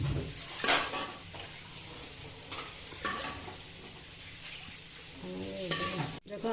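Whole cumin and potatoes dropped into hot oil in a home kitchen pan, a sizzling fry broken by several stirring scrapes and clinks of utensil against the pan, close and fairly quiet.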